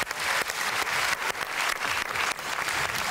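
Studio audience on a Turkish televised dance competition clapping loudly and continuously, a dense crowd applause that stays strong throughout with a few sharper accents.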